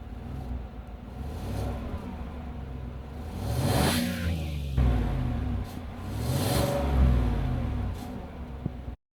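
A stock-exhaust 5.3 liter V8 in a 2015 Chevrolet Silverado LT Z71 idles with a steady low rumble, then revs up in two or three swelling pulls that fall back to idle, loud and close with no talking.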